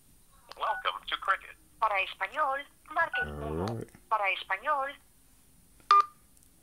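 A phone keypad dialing a short carrier service number sends DTMF beeps near the end, preceded and interrupted by steady conversational speech and a brief sung or hummed passage.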